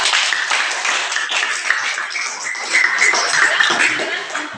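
Classroom applause for a student group after their presentation, a steady wash of many hands clapping close by that runs the whole moment with no talk over it.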